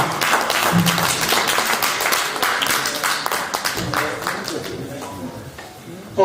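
Audience applause at a poetry gala, dense clapping from a crowd that fills the hall and gradually thins, with a voice speaking over part of it.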